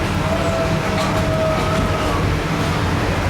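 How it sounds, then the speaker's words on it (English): A theme park train at Disney's Animal Kingdom rumbles and slows, with a faint high squeal of brakes as it comes to a stop. "Remain seated until the train comes to a complete stop."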